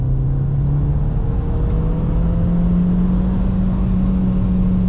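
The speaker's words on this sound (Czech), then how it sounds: "zařazenou trojku a dám plný plyn. Vytočím to do omezovače" A car held in third gear at full throttle, engine climbing steadily to the rev limiter in one continuous loud, rising drone, heard from inside with no talking.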